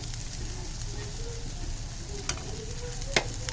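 Onions browning in a frying pan give a steady close sizzle with a low rumble beneath, a couple of sharp utensil clicks near the end and faint muffled voice-like sounds in the background.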